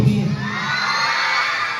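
A crowd of schoolchildren at Mayyil ALP School hoots and shouts loudly in unison, a dense sustained roar of many young voices close by that tapers slightly over two seconds.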